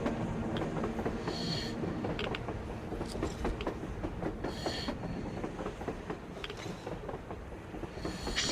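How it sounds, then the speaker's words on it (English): In the video game Metro Exodus, a train rolls by on the surface with continuous rumbling, rhythmic clickety-clack and metallic creaks and clanks, steady and fairly distant, without talk. "A train! A damn train on the surface!"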